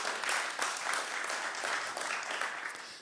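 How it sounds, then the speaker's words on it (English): Steady, dense applause from an audience at a PostgreSQL community conference, continuous clapping at moderate volume that carries on for about three seconds. "And another clap for Megan"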